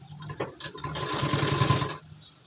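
A sewing machine stitches a blouse in one steady burst of whirring, roughly a second and a half long, starting and stopping abruptly close by, with no talk over it.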